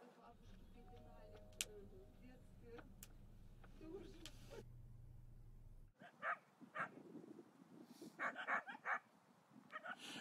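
Several sharp barks and yips from Nenets reindeer-herding dogs ring out in bursts, moderately near, after a stretch of low rumbling background noise at a tundra tent camp.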